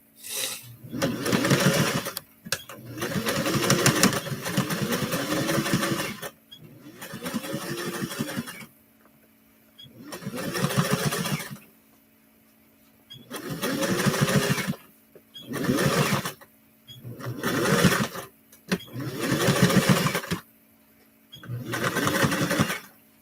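A sewing machine stitching in repeated bursts of a few seconds each, fast mechanical whirring with short quiet pauses between runs, close and clear.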